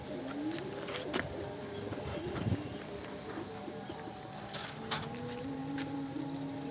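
Faint, low pigeon coos repeat quietly in the background with scattered soft clicks and rustles.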